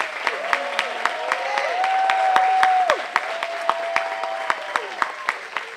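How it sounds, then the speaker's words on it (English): Applause from guests at a Juneteenth banquet, steady clapping under a sustained, wavering tone that rises and falls, with sharp regular claps standing out near the microphone. "Senator Boudreaux and Representative Pierre deserve a huge round of applause."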